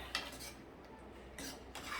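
A spoon stirs rajma gravy in a pot, giving a few faint metallic scrapes and clinks against the pot in a short, quiet burst.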